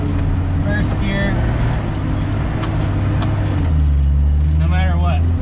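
A Jeep Cherokee with an AW4 automatic transmission driving in first gear, its steady engine drone and rumble close and loud throughout, with someone talking over it.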